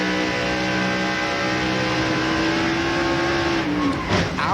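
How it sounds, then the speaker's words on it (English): A NASCAR race car's engine screams at high RPM as the car spins after hitting the wall at Texas in the 2000 DirecTV 500, a steady loud whine that sags in pitch near the end. "You could hear the RPMs that really get up there as the back started around on Benson's car."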